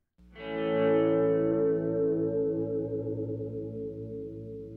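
A single electric guitar chord swells in from silence with a chorus modulation and shimmer reverb, then sustains and wavers as it slowly fades.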